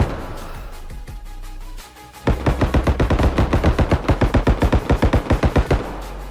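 Sustained automatic gunfire in the video game Bodycam: a long, loud, evenly spaced string of sharp shots starting after a quieter stretch, close and without talk.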